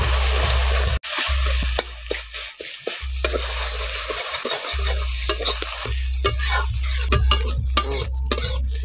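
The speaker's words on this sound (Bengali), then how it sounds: "এখন ডিমটাকে ভালো করে ভেজে কুচি কুচি করে নেব।" Egg filling with turmeric, pepper, green chilli and onion fried and stirred in a pan, loud close scraping strokes over a constant sizzle, with brief metallic knocks and pauses between stirs.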